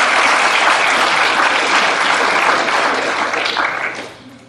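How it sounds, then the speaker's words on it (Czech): Lecture hall audience applauding in a university class on algorithm complexity, loud, dense clapping from many hands that holds steady for several seconds before thinning out and stopping. "Potlesk na to odvážení, určitě zaslouží."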